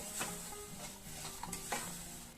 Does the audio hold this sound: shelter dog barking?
no